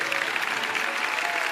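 Church congregation claps in a large hall, a dense continuous wash of applause held briefly at steady level.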